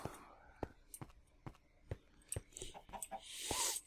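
Chickens in a Minecraft Feed The Beast modpack world cluck in short, scattered bursts, close and fairly quiet, mixed with light footstep taps and a brief rustle near the end.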